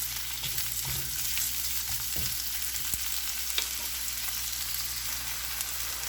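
Carrot, onion and bell pepper fry in a pan with a steady, close sizzle, broken now and then by a few soft clicks of stirring.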